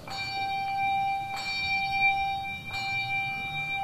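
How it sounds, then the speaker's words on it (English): Church handbells ring out in three bright struck notes, each strike leaving a long sustained shimmer, clear and fairly near, with no voices over them. "here is the sound of the bells"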